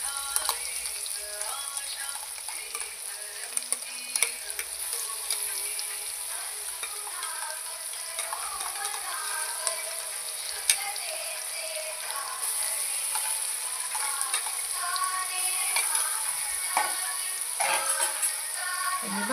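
Spice paste and curry leaves fry in a pan with a steady high sizzle that runs throughout, broken by small crackles, spatters and the occasional clink of a spoon, close and moderately loud with no talking.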